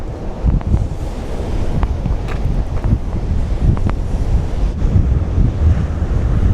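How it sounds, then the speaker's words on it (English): Strong coastal wind roaring and buffeting the microphone on a spring day by the sea in New Zealand, with waves washing against the shore beneath it, loud and steady throughout. "Alright, it's very windy. My hat's trying to blow away."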